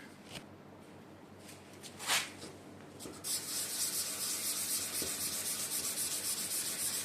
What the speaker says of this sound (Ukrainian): Зараз візьмемо 320-ку і тут ще дотрем трошки